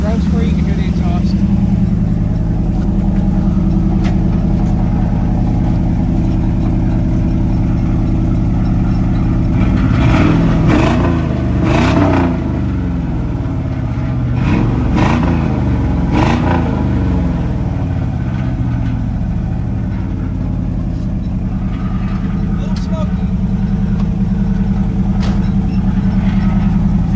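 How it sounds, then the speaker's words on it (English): A 1980s DFI truck engine idles steadily, then revs up twice near the middle, its exhaust rising and falling each time before settling back to a low rumble. "Give her a few revs for you, you can hear the exhaust."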